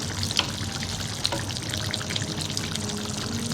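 A pot of rice comes to a boil on the stove, a soft steady bubbling and gurgling with a few small pops, close and alone.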